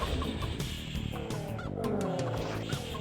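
Poultry calls in the video game Heretic, honking, goose-like clucks over a dense, busy game soundscape, several short calls scattered across a few seconds.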